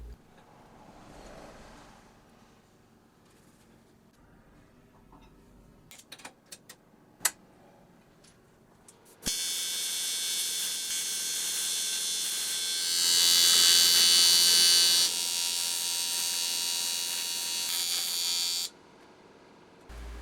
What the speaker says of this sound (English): and then it's time to weld it on